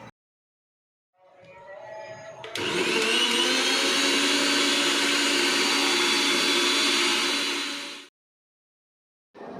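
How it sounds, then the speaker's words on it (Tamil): A mixer grinder blends egg mayonnaise with added oil: after a short rising start, a loud, steady high whirring roar runs for about six seconds close by, then cuts off abruptly. "நான் இப்போது இன்னும் கொஞ்சம் எண்ணெய் ஊற்றி திருப்பி மிக்சியில் அரைக்க போகிறேன்"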